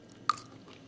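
A bite into panettone studded with candied orange and raisin, one sharp crunchy snap near the start followed by faint soft chewing, close and quiet.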